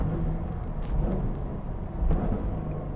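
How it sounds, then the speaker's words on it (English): Low engine growl from a Cadillac CT5-V Blackwing, rising in two swells as it blips through rev-matched downshifts, steady and fairly close with no talking. "every time I downshift, it will match, and it just sounds absolutely incredible"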